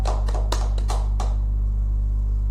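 A handful of loose, separate claps after a yoga session, each sharp and close, spread over about a second, then quiet room tone with a low steady hum underneath.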